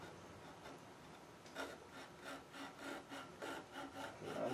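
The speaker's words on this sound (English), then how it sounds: "with some diamond files to get it smoothed out" Diamond files rasp over the inner edge of a wooden apron for a 17th-century-style bench, smoothing a carved bead. The strokes come in a quiet, close, rhythmic series of short scrapes.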